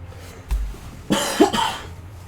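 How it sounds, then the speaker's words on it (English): A single harsh cough from a lingering illness bursts out at mid-loudness after a brief muffled thump, with quiet room noise around it. "So I do apologize if I cough here and there in the episode"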